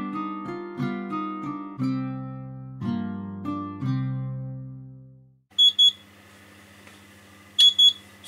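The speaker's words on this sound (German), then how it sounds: "So, der Wecker piepst." A kitchen timer goes off while homemade muesli bars bake in the oven: a run of tonal notes, then two short pairs of high, sharp beeps at moderate volume, with no one talking.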